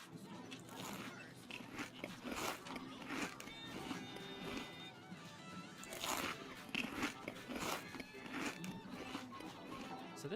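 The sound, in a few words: Chuck E. Cheese Ticket Muncher munching sound, bassy and distorted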